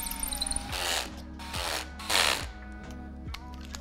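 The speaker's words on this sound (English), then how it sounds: "And finish it with torque wrench." Torque wrench ratcheting as it tightens screws on the handle of a hot-air balloon burner, with several short close ratchet bursts in succession and no talking.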